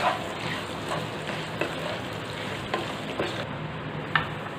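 Pointed gourd slices stir-fried with garlic in a pan on a gas stove, a soft continuous sizzle with scattered light clicks and scrapes of stirring.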